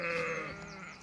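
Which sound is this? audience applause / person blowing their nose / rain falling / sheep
sheep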